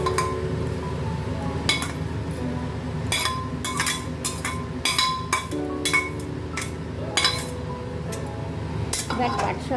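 Torn jute leaves are stirred into a pan with softened onion and chili, with repeated clinks and scrapes of a utensil against the pan over a low continuous background hum. A voice can be heard faintly at times.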